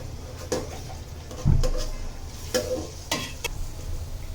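Whole spices such as bay leaf, cardamom, cinnamon and cloves are stirred in a pot for chicken feet biryani: scattered scrapes and clinks of a spoon against the pot over a faint sizzle, close and moderately loud, with no speech.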